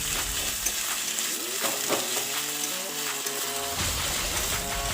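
Onions sizzle and fry in a pan with ginger garlic paste added, a steady hiss with stirring clatter, no voices.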